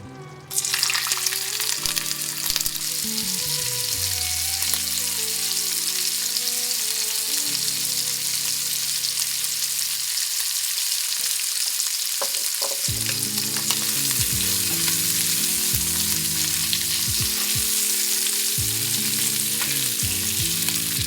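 Hot links and shrimp fry with a loud, continuous sizzle throughout, joined by music in the background that drops away briefly midway and then returns.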